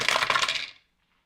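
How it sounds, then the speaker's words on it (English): Several tabletop dice clatter and tumble together in a quick burst during a tabletop role-playing game, loud and close, then stop abruptly after under a second, leaving silence. "Listen to all those rogue dice."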